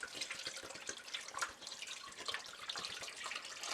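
Store-bought spring water gushes from a gallon jug into a pot for brewing banana wine, a close, continuous splashing pour with gurgles, no talk.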